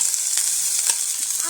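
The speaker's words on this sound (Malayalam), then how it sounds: "ഉള്ളി, ഇഞ്ചി, വെളുത്തുള്ളിയൊക്കെ നമുക്ക് വഴറ്റിയെടുക്കാം." Onion, ginger and garlic sauté in a hot pan for a jackfruit seed curry, giving a steady, close sizzle with soft crackles and no voices.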